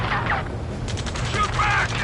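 Rapid gunfire crackles in a ground firefight in the video game Ace Combat 7, with overlapping bursts and shots filling the whole moment at moderate loudness.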